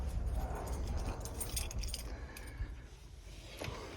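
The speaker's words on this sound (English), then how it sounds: "2 sets of keys that have keyless entry." Two sets of Mercedes-style pop-out keys with keyless entry fobs for a 2006 Winnebago View jangle and clink in the hand, a close, brief burst of metallic rattling that fades over a few seconds.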